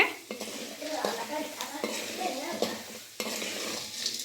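Chana dal fries in a pan while a spatula stirs it, giving a steady close sizzle broken by scraping strokes and light clinks of metal against the pan.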